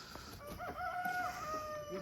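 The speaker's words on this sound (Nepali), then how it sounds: "यहाँ छ कुखुराहरू" Local chickens and a rooster at a roadside poultry stall, a rooster crowing with rising and falling calls over soft clucking and scattered hen sounds, fairly close, no talking.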